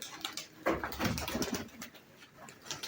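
Pigeons coo in a few soft, rounded bursts close by, and a man calls to the birds at points in between.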